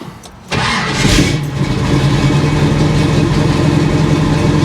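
A 1971 Chevy Nova engine catches suddenly after a quiet moment and settles at once into a loud, fast, rough idle, close by.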